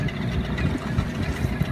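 A Yamaha outboard engine on a dinghy idles close by, a steady low rumbling drone with faint knocking vibration running through the whole short stretch without speech.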